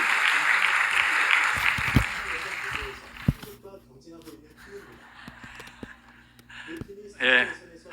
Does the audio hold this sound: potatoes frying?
no